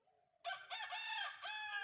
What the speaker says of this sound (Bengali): ওইখানে মুরগি আছে সামনে ওই আওয়াজ শুনছে